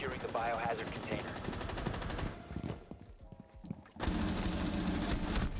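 Rapid, loud automatic gunfire in the Rainbow Six Siege video game, with dense sustained bursts, a brief lull, then another heavy volley.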